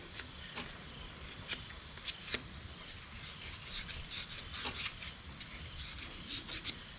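Sandpaper of 320 grit rubbing over a slightly corroded part on a Kohler diesel generator, a faint soft scratchy rasp in uneven back-and-forth strokes with a few sharper scuffs, close and quiet with no talking.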